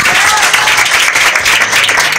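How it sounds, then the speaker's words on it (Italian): Diners at a Christmas lunch give Terenzio a loud, close round of applause, a dense, continuous burst of clapping from a room full of people. "bisogna fare un applauso a Terenzio"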